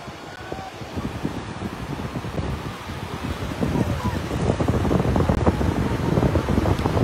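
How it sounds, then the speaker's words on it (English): A motorboat races past near the beach, its engine drone swelling louder over the rush of wind buffeting the microphone and the surf. "Got this boat racing down."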